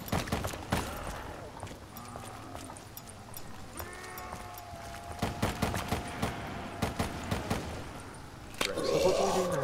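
Gunfire from a purchased weapon in Black Ops 3 Zombies, with bursts of sharp shots scattered through the clip and a denser cluster near the end, over game sounds and music.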